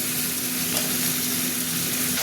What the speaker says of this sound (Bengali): টমেটোগুলো দিয়ে দিলাম, একসঙ্গে দুটো ভাজবো। চিকেন আর টমেটো দিয়ে ভাজা হবে।